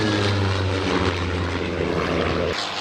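A Spitfire propeller aircraft flying at the 1966 Farnborough Airshow, with a loud, continuous piston-engine drone and propeller roar heard close and steady, then cut off abruptly near the end.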